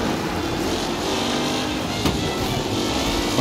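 A race car engine in the video game Mafia: Definitive Edition drones steadily at high revs, a loud continuous roar with a brief spike near the middle, no talk over it.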